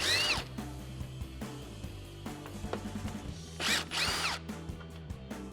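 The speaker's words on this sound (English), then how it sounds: "you can remove 2 10mm bolts holding on the top of your grill" A power tool briefly whirs, once at the start and again near the end, while removing 10mm bolts from the top of the grille on a 2012-2015 Toyota Tacoma, with faint mechanical clicks between the two bursts.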